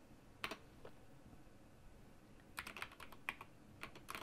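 Computer keyboard typing during work in Unreal Engine blueprints: a few isolated keystrokes early, then a quicker burst of clicky taps near the end, faint and close against a quiet room.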